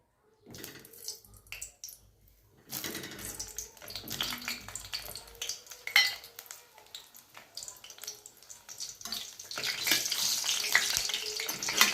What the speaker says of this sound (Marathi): आता मी ते वांगे कट करून घेतले होते त्यामध्ये टाकते आणि मस्त फ्राय करून घेते